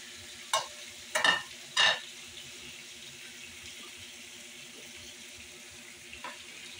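Adobo ingredients such as garlic, onion and ginger are stirred in a frying pan, three sharp scrapes of a utensil close together near the start, then a quiet, low sizzle that lingers with one faint scrape near the end.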